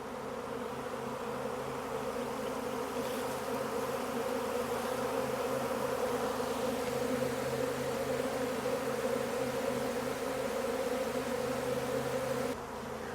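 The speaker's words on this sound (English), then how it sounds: "They are hitting the air, so I'm going to say this is a legit swarm" A honeybee swarm fills the air with a dense, continuous buzz. The hum is steady and close for the whole stretch, with no voices.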